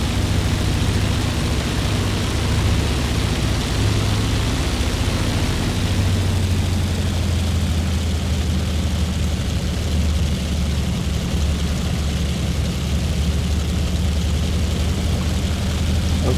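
A Corsair warbird's piston engine runs steadily and loudly up close, a deep continuous propeller drone with a strong low throb, constant level throughout with no voices.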